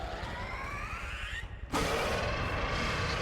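Gunfire rings out in the co-op shooter GTFO: a loud sustained burst hits partway through and keeps a dense, noisy roar to the end, over a steady rumbling background.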